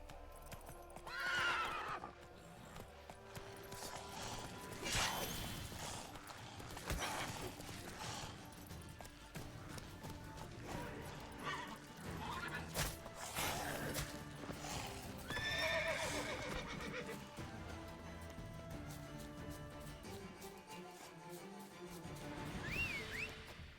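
Roach, a horse in The Witcher 3, gallops with steady clip-clop hoofbeats across the whole stretch, breaking into several loud, high whinnies along the way, with game ambience underneath.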